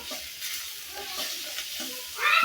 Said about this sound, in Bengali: দেখতে পাচ্ছেন এই যে ভাজা হয়ে গেছে অর্ধেক, আর একটু ভেজে নেব